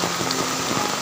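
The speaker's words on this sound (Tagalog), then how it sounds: "Lakas talaga ng ulan" Heavy rain falls during net fishing for tilapia in Toledo City, Cebu, a dense, constant hiss of drops striking surfaces, close and loud, with no voices over it.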